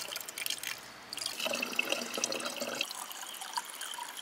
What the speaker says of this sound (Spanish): Me da a mí que esta agua que estamos rellenando por aquí baje del manantial ese que hemos encontrado